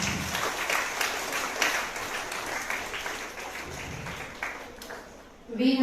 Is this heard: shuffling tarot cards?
no